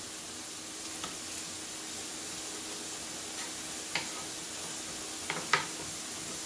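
Chicken breast stir fry sizzles softly in a pan, a faint continuous hiss with a few sharp clinks and scrapes from stirring now and then, with no talking.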